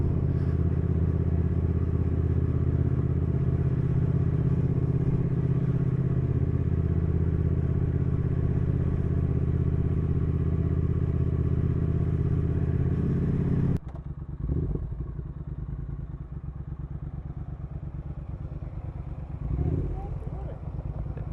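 A Triumph Thruxton R motorcycle's engine drones loud and steady while it is ridden out on the road, then drops abruptly to a lower, rougher rumble with a few swelling pulses, heard up close.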